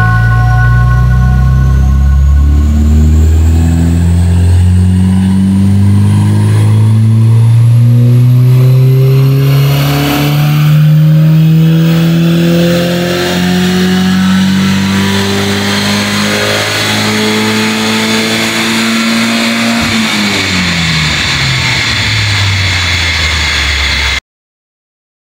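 Cheap old Volvo engine on a power test run, revving loudly and steadily climbing in pitch for about twenty seconds before dropping off, close and sustained with no talk.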